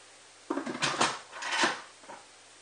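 Lid of a GM electric pressure cooker being closed, a short run of soft metallic clatters and scrapes lasting about a second and a half, fairly quiet and close.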